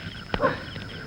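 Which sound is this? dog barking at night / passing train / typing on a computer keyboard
dog barking at night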